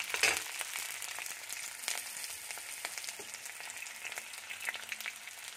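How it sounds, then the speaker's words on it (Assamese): Onions browning in a pan for a butter pork (gahori) curry, giving a steady, moderately loud hiss and crackle of sizzling oil that runs throughout with small pops and no talk. "পিঁয়াজখিনি অলপ ৰঙচুৱা কৰিবৰ কাৰণে দিম"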